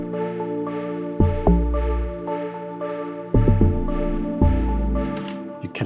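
An amapiano beat made in FL Studio, with deep booming log drum hits and sub bass under a pulsing synth chord pattern, playing loud and close in a repeating groove.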